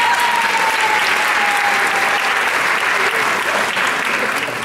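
A theatre audience at a mentalist show claps steadily and loudly throughout, a dense continuous wash of many hands with faint crowd murmur beneath.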